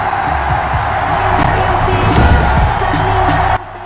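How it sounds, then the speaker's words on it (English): Stadium crowd cheering in the Madden 21 video game before a Buffalo Bills vs New England Patriots game in Foxborough: a loud, dense, steady crowd roar that cuts off sharply near the end. "This crowd is ready as their guys get set to match up between the Buffalo Bills"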